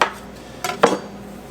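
Knife cutting Christmas cookie dough on a sheet pan, a few short metallic clicks and taps of the blade against the pan, close and quiet.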